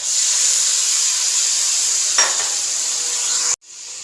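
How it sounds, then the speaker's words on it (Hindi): Spices for rajma curry sizzle and hiss steadily in a hot pan as water is added, with a burst of sputtering partway through before the sound cuts off sharply; no one talks. "और अब हम इसमें थोड़ा सा पानी ऐड करेंगे।"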